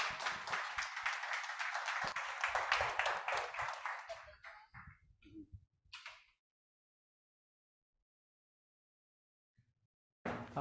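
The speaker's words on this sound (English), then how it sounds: "Round of applause, yep." An audience at a startup pitch event claps for a presenter coming on stage, a moderate burst of applause that thins out after about four seconds into scattered claps and then silence.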